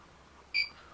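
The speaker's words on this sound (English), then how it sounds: "The instrument will beep when this is done." A Micro Vickers hardness tester gives a single short, clear electronic beep after unloading its test force, against a quiet background.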